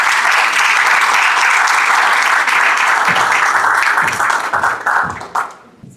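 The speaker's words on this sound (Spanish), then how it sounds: "Recibámoslo con un aplauso." A crowd applauds steadily with dense clapping that holds strong for several seconds, then thins out and fades near the end.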